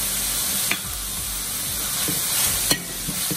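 Spices stirred into palak paneer in a frying pan with salt, coriander powder, turmeric, chili powder and garam masala, a steady close sizzle with scraping stirs and a few sharp spoon knocks.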